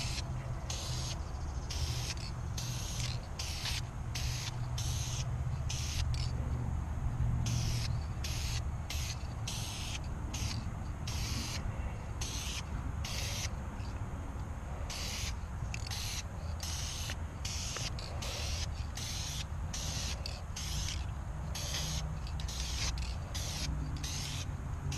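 Spray gun applying clear coat to a Mercedes in short repeated hissing bursts over a steady low background hum, close up, with no talking.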